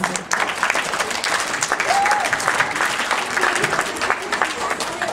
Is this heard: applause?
yes